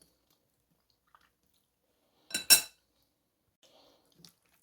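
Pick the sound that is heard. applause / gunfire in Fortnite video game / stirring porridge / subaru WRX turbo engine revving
stirring porridge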